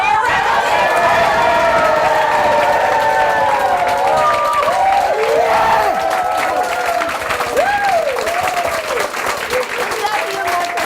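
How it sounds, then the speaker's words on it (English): A large crowd at a sales mastermind event claps and cheers loudly and continuously, with whoops and shouting voices layered over the dense applause. "and now, the loudest clap for Mr. Marco."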